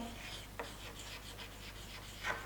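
A pen scratches across paper while a chemistry problem is written down, with quiet, close strokes and a few short bursts against faint background hum.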